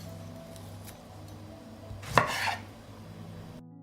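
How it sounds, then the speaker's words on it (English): Knife chopping tomatoes into larger pieces for a salad on a board, a single sharp cut standing out near the middle of a quiet kitchen backdrop. "I will cut the tomatoes into larger pieces."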